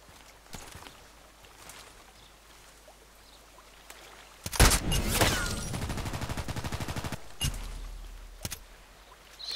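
Gunfire in the online shooter Contract Wars: a few faint single shots, then a loud rapid automatic burst with a rhythmic rattle, followed by scattered later shots.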